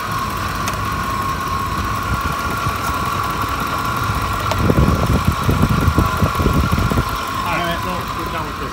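Steady high-pitched pulley whine from a running 2004 Ford F-150 engine with a power steering leak, a constant tone over engine hum, with louder clatter and rattling midway and voices talking.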